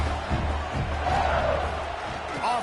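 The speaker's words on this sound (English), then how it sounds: "for an entire game, they are on their feet, yelling, screaming." A football stadium crowd on its feet yelling and screaming during a game, a dense roar of many voices heard at a distance beneath a broadcast commentator's talk, swelling slightly and holding steady for a few seconds.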